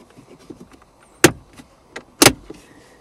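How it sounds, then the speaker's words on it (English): Plastic trim tabs on a Kia Sorento center console snap loose in two sharp, close clicks about a second apart, over faint handling rustle. "You're going to hear those tabs come loose."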